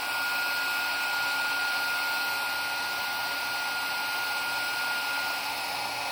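A heat tool blows hot air to melt distress embossing glaze for a craft stamping project, a constant whooshing fan roar held close and steady throughout, with no talk.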